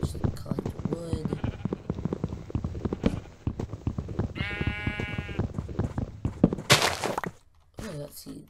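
Sheep bleating in the Minecraft video game, a short synthetic bleat standing out among clip-clop footsteps and other game sounds, with a person talking over much of it.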